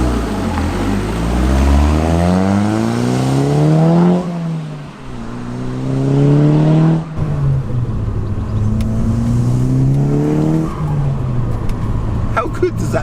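Stage 2 Audi S3 with a 2-litre TFSI engine pulls hard through the gears on the road, its intake note rising and dropping with each upshift in a loud, continuous sweep inside the cabin.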